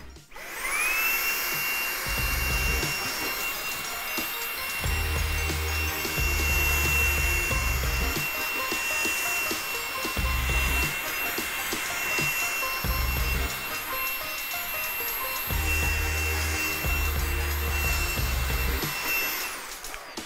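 Xiaomi Dreame V10 cordless handheld vacuum cleaner running on maximum mode, a loud steady high-pitched motor whine with a sharp tonal edge and rumbling pickup noise, continuous for about twenty seconds with no talk.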